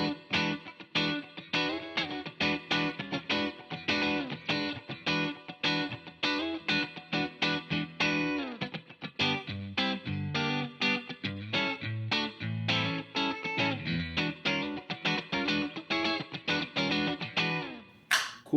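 Electric guitar playing a choppy, rhythmic funk riff through a Walrus Audio ACS1 MK II amp simulator pedal, steady strummed chords repeating throughout without any talking.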